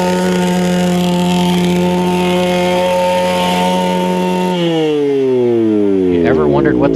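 Motorcycle engine at a hill climb race held hard against the rev limiter, a loud steady buzzing drone that then drops in pitch as it falls off, close up with a clatter at the end.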